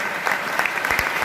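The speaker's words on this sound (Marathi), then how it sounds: "पुनश्च एकदा आपण सर्वांनी जोरदार टाळ्या वाजवायच्या आहेत" A crowd at a religious celebration in Limbgaon claps loudly together, producing a dense, continuous wash of applause that stays at an even level throughout a short stretch.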